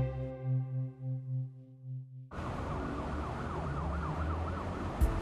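A pulsing wail gives way abruptly to a loud, rapidly warbling ambulance siren close by, continuous to the end.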